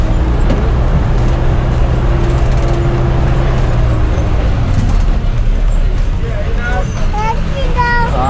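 Bus engine rumbling steadily during a ride inside Eravikulam National Park near Munnar, loud and continuous throughout, with people talking over the drone.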